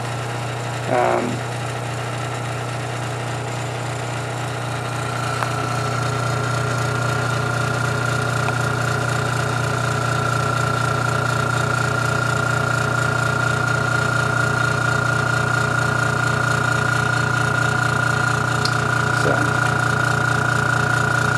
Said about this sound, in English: you can also see how long it takes to actually fill the tank and get to the point where it would be quiet